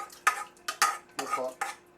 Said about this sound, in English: So we're going to put the rice that I washed, I'm going to put it inside here